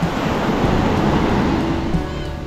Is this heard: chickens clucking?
no